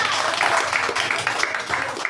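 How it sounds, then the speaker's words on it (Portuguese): A church congregation applauds together in a dense, steady wash of clapping that fills the room, loud and continuous, with faint voices mixed in. "Será que o nosso Deus merece uma salva de palmas?"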